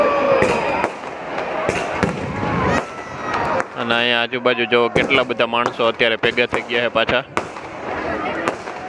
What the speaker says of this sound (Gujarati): આમ જો આતશબાજી ચાલુ થઈ ગઈ છે.